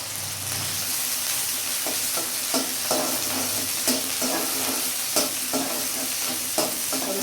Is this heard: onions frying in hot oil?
yes